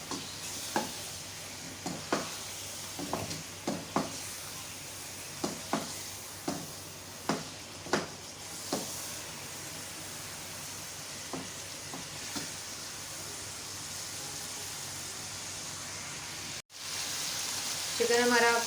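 Chicken frying in a pan with spice paste for a chicken gravy, a steady sizzle under repeated scraping strokes of a spoon stirring the pan, ending in a louder burst of frying.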